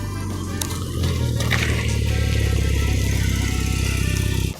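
Porsche 911 Carrera engine idling nearby, a steady loud low rumble that rises slightly after the first second and holds evenly.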